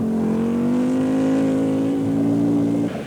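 A Group A Saab 99 Turbo rally car at the 1984 Swedish Rally holds a loud, steady engine note whose pitch climbs slowly before it abruptly drops off near the end.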